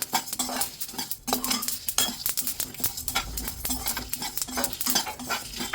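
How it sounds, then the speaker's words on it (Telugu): Garlic and sesame seeds crackle and pop in hot oil in a pan, with rapid irregular snaps running throughout alongside occasional clinks of a stirring spoon, close and fairly loud, no voices. "వెల్లుల్లి, అలాగే నువ్వులు లాస్ట్లో వేస్తున్నాము. చూడండి, చట్పట్లాడుతున్నాయి"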